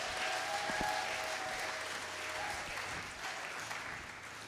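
Congregation applauding in a church service, steady broadband clapping from many hands throughout, fairly distant and even, with a faint tone ringing underneath.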